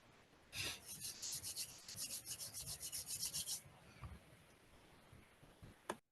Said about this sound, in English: Just start by rubbing the hands together,